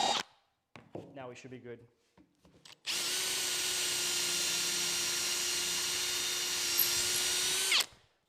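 A power tool tapers the end of a wooden dowel in a small woodworking shop: a short spoken line, then a loud, steady high whine of about five seconds that stops abruptly.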